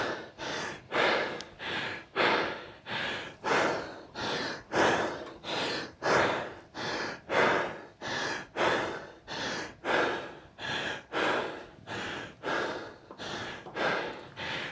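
Heavy rhythmic breathing from a cyclist recovering after a one-minute effort. Around twenty loud, close gasping inhales and exhales follow each other at a steady pace, with no talking.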